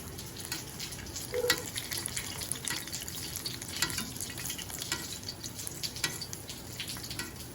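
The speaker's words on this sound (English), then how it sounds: "If you just lay it, it might stick to the pan. So when you put it down, move it." A chile relleno fries in oil in a pan, giving a steady, faint sizzle and crackle with small scraping and spattering sounds as it is moved around.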